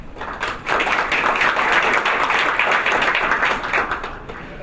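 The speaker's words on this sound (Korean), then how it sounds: "여러분 큰 박수 부탁드립니다." An audience at a Korean real estate policy forum claps steadily for a speaker taking the stage, a dense, even applause that swells and holds at moderate loudness.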